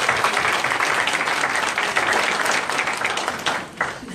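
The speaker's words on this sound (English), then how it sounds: "So let's give her another round of applause." A conference audience at the UN Oceans Conference breaks into sustained applause, dense clapping from many hands filling the room steadily before easing slightly near the end.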